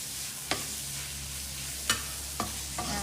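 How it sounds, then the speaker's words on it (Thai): Pork stir-fried in a pan over medium heat, with a steady sizzle underneath and a few sharp spatula scrapes against the pan at irregular intervals, close and without talk. "แล้วก็ผัดไปเรื่อยๆ ใช้ไฟปานกลาง จนกว่าหมูจะสุกนะคะ"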